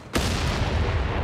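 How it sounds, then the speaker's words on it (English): Rifle fire from an M16 in a Company of Heroes 3 battle, a sudden sharp onset followed by a dense, sustained roar of overlapping shots and booms that stays loud to the end. "M16 firing away there"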